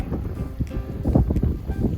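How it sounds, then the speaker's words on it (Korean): Gusty wind on Jeju Island buffets the microphone, rumbling and roaring in uneven surges with a low, rushing background. "바람 소리 들리시나요?"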